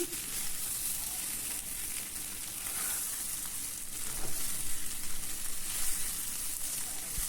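Chicken frying dry in a pan, a steady broadband sizzle and crackle running throughout, fairly close and even, swelling slightly toward the end.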